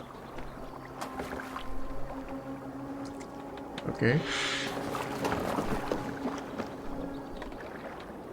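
Rowing a boat on water in the video game Assassin's Creed Valhalla, with soft oar splashes and sloshing over a steady watery ambience, a louder splash midway, and people talking over it.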